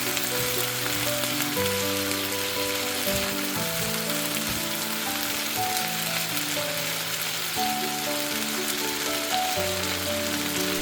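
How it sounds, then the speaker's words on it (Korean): Fried dumpling wrappers and cabbage are stir-fried in a pan, a loud continuous sizzle and crackle running unbroken throughout, with background music playing over it. "만두피와 재료를 잘 섞어가며 볶아주세요."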